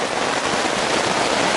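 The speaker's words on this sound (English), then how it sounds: "It's currently raining really hard outside." Heavy rain drums steadily on a tent on the Appalachian Trail in Virginia, a dense, loud, continuous hiss of drops striking the fabric with no gaps or voices.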